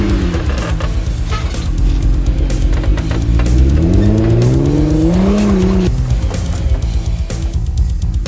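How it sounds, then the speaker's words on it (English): A red Jeep Rubicon 4x4 at an off-road 4x4 event, its engine loud and close as it climbs into a big wheel lift, revving with rising pitch before easing off, with no talk over it. "his red Jeep Rubicon, making this one huge wheel lift looking so good"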